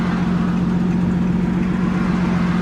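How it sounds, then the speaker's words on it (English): A car with a loud modified catback exhaust idles nearby, a steady, deep droning rumble that holds constant without revving. "Hey, David, the reason why I pulled you over is for your loud exhaust."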